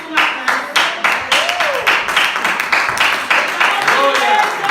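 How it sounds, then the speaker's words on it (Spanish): A church congregation breaks into applause during a sermon, with dense, lively rhythmic clapping close by and a voice speaking through it. "Esto merece un aplauso."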